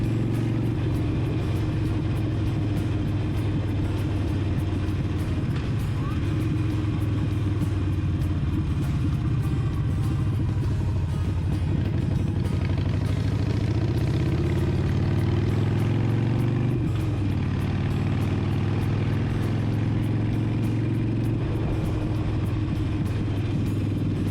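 A Harley-Davidson 1200 motorcycle is ridden along a new coastal road at sunrise, its engine giving a loud, continuous low rumble under heavy wind noise with no break.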